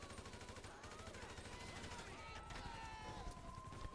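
Police fire on a player standing in a city intersection in GTA 5: rapid overlapping gunshots and bursts crackle continuously over game ambience, with a voice talking throughout.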